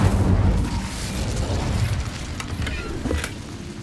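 An Incendio fire spell cast in Hogwarts Legacy bursts with a loud whooshing blast that fades into a rumbling, crackling tail with a few sharp pops.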